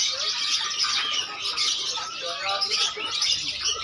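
Dense chorus of caged birds chirping and calling at a large bird market in Makassar, with perkutut doves and murai among them, a busy continuous mix of tweets and squawks filling the space without speech.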